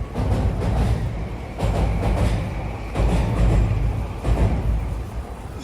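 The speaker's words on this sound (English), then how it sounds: "you can hear the train going by" A Yamanote line train rumbles past in Tokyo's Okachimachi area, with repeated clacking pulses from wheels over rail joints, a steady low roar filling the scene at moderate distance.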